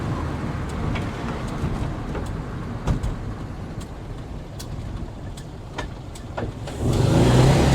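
A 1968 Volkswagen Type 3 with dual 34 carburettors driving along, its engine humming steadily from inside the car with road rumble, then the engine note swelling louder near the end.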